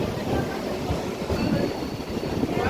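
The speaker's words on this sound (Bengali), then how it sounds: "ট্রেন ধীরে ধীরে ঢুকছে।" A local train, a Digha Rath Yatra special, rolls slowly into Tamluk station with a steady, close rumble of wheels on rails and a few faint clacks and squeals, and no talking.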